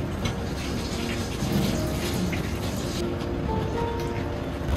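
Kitchen tap water runs steadily while fruit is washed in a home kitchen in Japan, a continuous close splashing rush with no pauses.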